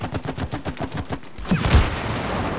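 Rapid gunfire in the It Takes Two video game rattles in a fast rhythmic burst, followed by a few louder, heavier impacts near the end.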